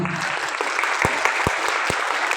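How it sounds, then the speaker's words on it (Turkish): Brief, steady applause from wedding guests in a hall, a dense patter of clapping with a few sharper claps standing out. "Güzel setimiz için bir maşallah alkışlar gelelim efendim."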